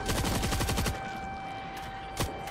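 Automatic gunfire in the video game World War Z: Aftermath, a fast, loud rattling burst lasting about a second, then a steady tone and a single later shot.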